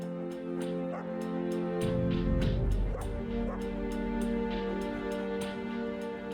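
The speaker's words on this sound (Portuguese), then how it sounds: "O único conforto para Danelli é a presença constante do seu cão" A dog gives soft yips, whimpers and short bow-wow barks at a moderate distance, repeated in an uneven rhythm over a steady background hum.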